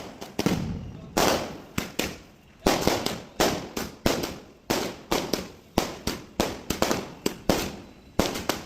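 Sivakasi firecrackers burst for Diwali in a loud, rapid string of sharp explosions, several per second. Each crack decays briefly before the next, with short gaps, and continues for the whole stretch.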